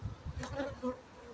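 Wild Irish honey bees buzz around a colony in a fallen tree, a faint, close buzzing with a wavering pitch over a short stretch.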